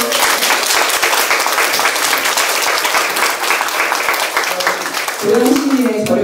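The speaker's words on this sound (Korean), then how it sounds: "박수." Sustained audience applause fills the room at a political talk event, steady and loud, with a few voices rising over the clapping near the end.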